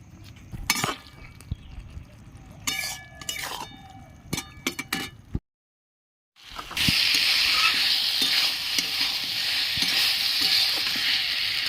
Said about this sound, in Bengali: ভেজে রাখা উচ্ছে দিয়ে দিচ্ছি ভালো করে কষিয়ে নেবো